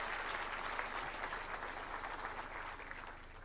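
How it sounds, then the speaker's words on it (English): Sustained applause from a crowd at a World Telecom Day 2023 event, steady and even throughout, moderately loud. "let us have a huge round of applause for all the hard work and dedication"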